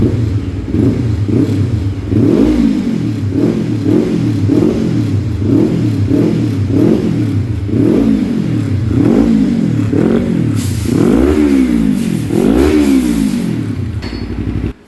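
A Yamaha MT25 motorcycle engine is revved repeatedly during carburetor tuning in a workshop, loud and close, with rhythmic rising and falling throttle blips building to sharper revs near the end.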